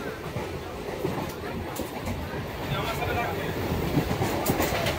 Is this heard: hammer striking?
no